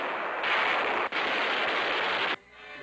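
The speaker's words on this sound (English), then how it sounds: "Guns, camouflaged in nearby fields," Camouflaged army artillery guns fire from fields, heard as a sustained roaring blast of broadband noise that cuts briefly near the middle, then drops off sharply into a quieter rumbling tail.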